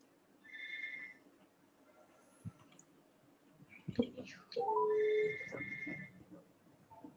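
A mobile phone rings with a call from the speaker's child, bursts of a bright electronic ringtone repeating twice with clicks and handling noise between them, close and fairly quiet in an indoor room.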